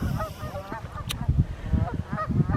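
Swans honk repeatedly at Fair Haven, New York, in winter, giving a chorus of nasal calls from a nearby group with no voices over it.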